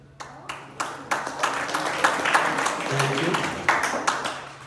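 An audience at a live stand-up comedy show in a Jersey City apartment complex claps in scattered, sharp bursts that build into sustained applause, fairly close and without talk over it.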